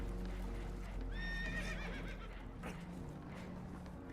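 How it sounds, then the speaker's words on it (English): Spooked horses whinny and neigh aboard a boat that is taking on water, a shrill descending whinny rising over steady rumbling noise, joined by faint hoof clatter. "Horses are spooked, and we're taking on water."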